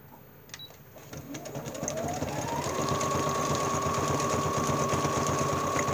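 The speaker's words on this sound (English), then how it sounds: "I'm going to put it back in my sewing machine and do a different stitch." A sewing machine stitching vinyl whirs into a fast steady hum, close up, its motor rising in pitch as it speeds up.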